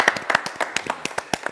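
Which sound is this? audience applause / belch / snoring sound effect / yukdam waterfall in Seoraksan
audience applause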